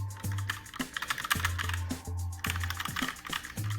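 Rapid typing on a Logitech K845 mechanical keyboard with TTC Red switches, close and crisp keystrokes clacking in quick irregular bursts, with deeper thocks under the lighter clicks.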